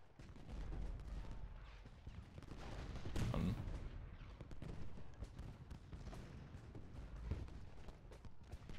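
Faint, distant musket and cannon fire rolls on in Ultimate General: Gettysburg, a continuous crackle of scattered shots with a louder burst partway through, under a low rumbling battle din.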